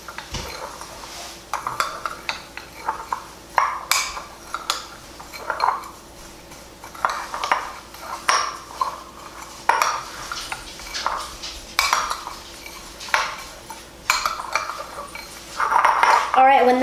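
A spoon stirring chopped pecans and toasted coconut in a bowl for a cake topping, with repeated scraping and clinking strokes against the dish in steady bursts, close and fairly loud.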